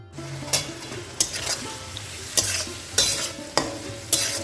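Prawns fry in a pan with turmeric and a little salt, sizzling steadily while a spatula strikes and scrapes in a regular rhythm of about one firm stroke every half second or so. No one speaks.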